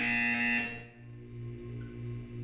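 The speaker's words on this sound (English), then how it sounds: "You will hear a buzzer." Buzzer in the video game Portal 2, a loud electronic tone that sounds once briefly and then drops away to a quieter hum.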